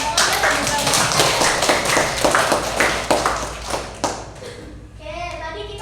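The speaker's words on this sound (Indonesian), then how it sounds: "coba berikan tepuk tangan lagi untuk Mbak Oda dan Mbak Mama" Classroom of students clapping for classmates during an elementary civics teaching session: a dense, steady round of many hands for about four seconds, then thinning out as children's voices take over near the end.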